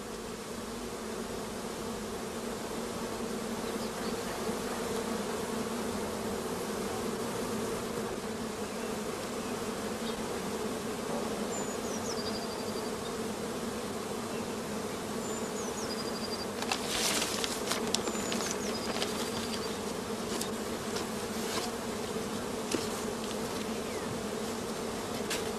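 A honey bee colony at an apiary beside allotment gardens hums in a steady, dense buzz throughout, with a few faint bird chirps over it midway.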